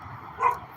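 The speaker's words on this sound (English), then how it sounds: "there's a dog sitting on a bench just watching me. But then a little bit further back up over this way is another dog that keeps barking" A distant dog at a lakeside fishing spot lets out one short, faint bark over steady outdoor background noise.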